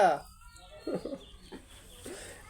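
A chicken clucks a few times in short bursts, close by, with quiet background sounds between the calls.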